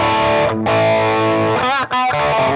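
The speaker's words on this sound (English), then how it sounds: "what I'll do is I'll just drop in that caliper drive" Electric guitar through a Line 6 Metallurgy amp with a caliper drive pedal, loud distorted sustained chords with a short break and a brief wobbling, modulated passage, no voices.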